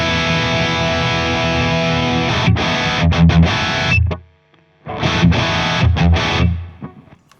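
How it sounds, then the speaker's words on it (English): Distorted guitar tone runs through a Two Notes Captor X+ studio tool with a subtle room reverb added, playing chopped bursts. Brief gaps let a short reverb tail ring out before the sound stops. "The reverb here, I do think is quite useful once again, just to be able to put a little bit of space around"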